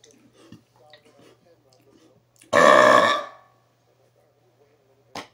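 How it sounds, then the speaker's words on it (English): A single loud, short human burp erupts suddenly, standing alone in a quiet room with only faint murmurs before it and a brief sound after. "Even though that was short, that was a complete burp."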